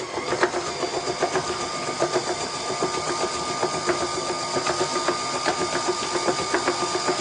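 An electric hand mixer fitted with a paddle beats stiff candy dough on low speed, giving a steady whirring motor hum with a fast, even rattling pulse throughout.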